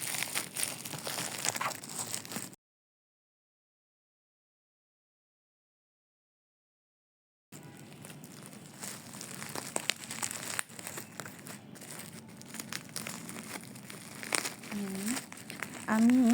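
Plastic packaging wrap crumpled and pulled off while unpacking an order of oil and shampoo, close crinkling that stops for a few seconds of silence and then keeps going, with a voice now and then.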